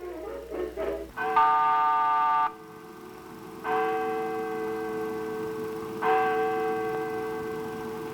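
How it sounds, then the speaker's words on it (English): Century-old chimes in historic City Hall, New York, striking 12 noon: three long, loud, ringing bell strokes, each sustained for a couple of seconds and decaying, preceded by brief clatter. "12 noon by the century-old chimes in historic City Hall"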